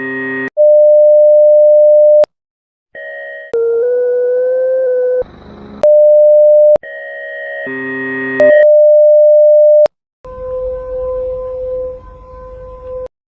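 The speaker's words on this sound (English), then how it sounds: "But they didn't have a ease alarm, also called emergency alert, like on your TV." Homemade emergency alert (EAS) alarm tones blare loudly in sequence: steady pure beeps alternating with harsh buzzing multi-tone bursts, separated by short silences and ending on a wavering tone.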